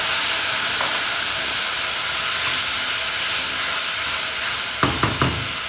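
Ginger paste frying in a pan, with a steady loud sizzle and hiss of steam throughout and a few sharp crackling bursts near the end.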